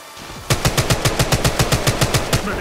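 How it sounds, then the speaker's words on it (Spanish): Rapid automatic gunfire in the mobile shooter Apex Legends Mobile, a loud, steady burst of about fifteen evenly spaced shots close up, with no talking over it. "¡Me disparan, colegas!"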